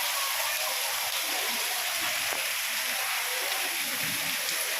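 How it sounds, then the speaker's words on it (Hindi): Heavy monsoon rain pours steadily outside a home, a dense continuous hiss of falling water that stays even and fairly loud throughout with no talk over it. "इधर झमाझम बारिश हो रही है।"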